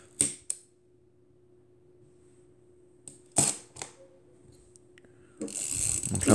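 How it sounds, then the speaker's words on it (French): Back of a 1950s Ihagee Exakta Varex IIa SLR camera from East Germany being opened, with a few sharp close mechanical clicks and latch snaps amid near silence, then a louder rustling handling noise at the end. "Donc je vais ouvrir le dos de l'appareil."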